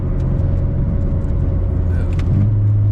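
Steady low car engine rumble from inside a moving car, with the engine note shifting near the end as the driver downshifts into fourth gear, continuous and close.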